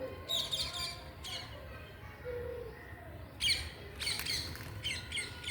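Birds squawk in short, sharp, separate bursts as they drop one by one onto a small rooftop flower garden to feed. The calls are spaced irregularly against a quiet outdoor background, some near and some a little farther off.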